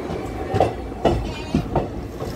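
Black Diamond Express train rolling on rails between Asansol and Dhanbad, heard from inside the coach as a continuous rumble with rhythmic clickety-clack wheel beats about every half second.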